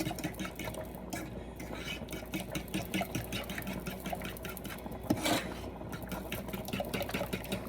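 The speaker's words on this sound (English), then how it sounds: "I'm gonna whisk that up" Paprika is whisked into a mac and cheese sauce in a pot, a rapid, continuous metallic whirring and clicking of the whisk at moderate volume, close by and steady throughout.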